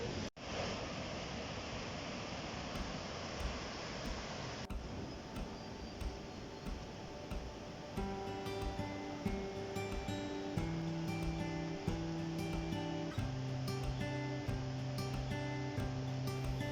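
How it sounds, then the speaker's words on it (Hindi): A clear river with strong currents in Rafiabad, Baramulla, Kashmir rushes steadily as a broad, even wash of water, later sitting beneath tonal music that enters partway through. "साफ पानी का ये दरिया अपनी तेज़ मौजों से बहता जा रहा था।"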